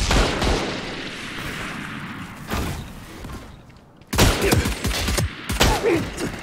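Video game pistol fire, rapid bursts of loud cracking shots with thumping impacts, a quieter lull in the middle, then dense volleys resuming.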